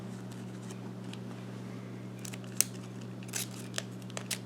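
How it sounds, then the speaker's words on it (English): Scissors trim fibrous paper while making Danish Christmas stars, several small crisp snips near the end over a steady low background hum, close and fairly quiet. "Trim that off."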